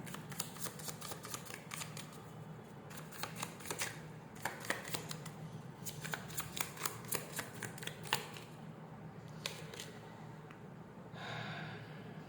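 Cards shuffled for a card reading, heard as quick, crisp riffling bursts that come in repeated runs with brief pauses, fairly quiet and close, with no talking.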